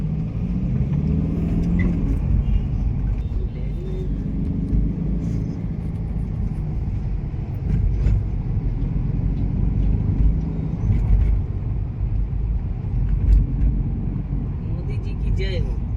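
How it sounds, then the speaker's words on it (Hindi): A Mercedes-Benz car on a test drive, its engine and road noise rumbling steadily throughout from inside the cabin, with brief knocks and bumps along the way. "तो जैसे कि अभी मैं टेस्ट ड्राइव पे ही हूँ तो एक अच्छा खासा ट्रायल लेता हूँ"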